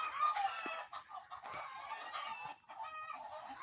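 Hens cluck in a backyard garden coop, producing a steady stream of overlapping, busy clucks and soft calls at moderate distance with no talk.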